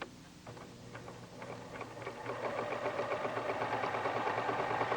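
A Pfaff sewing machine running a zigzag stitch on woven, medium-weight fabric, its motor whirring with a steady rapid needle rhythm that builds and holds at full speed, close and fairly loud.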